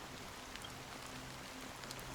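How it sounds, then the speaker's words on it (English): Fine drizzle of rain in the Honkai Star Rail video game makes a steady, soft, even hiss with faint scattered droplet ticks and a low hum underneath, with no talking. "Amidst the fine drizzle of black rain"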